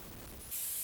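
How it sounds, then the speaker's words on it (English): A spray can mists high heat canola oil onto a muffin tin in a kitchen, a short steady hiss that rises to a brighter, louder burst halfway through. "hit this muffin tin with a little bit of a spray canola oil"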